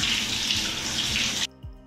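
Water runs steadily and loudly from a shower in a private airport lounge bathroom, a dense close hiss that cuts off abruptly near the end, followed by a brief faint splash.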